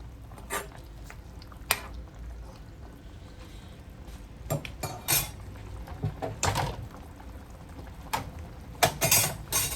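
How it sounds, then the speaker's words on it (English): Oxtail and ketchup being stirred in a cooking pot, with scattered scrapes, clinks and soft wet squishes of a spoon against the pot, fairly quiet and close with no talking. "We're going to give this a nice little stir."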